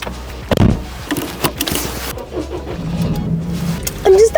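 A Daihatsu Copen engine starts and the car pulls away in Japan, its mid-pitched motor humming steadily near the microphone with a few clunks and a brief whine near the end.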